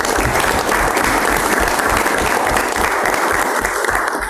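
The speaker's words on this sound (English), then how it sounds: "Let's go ahead and give them a big round of applause" Loud, steady applause fills a city commission meeting room, with many hands clapping continuously and closely at an even level.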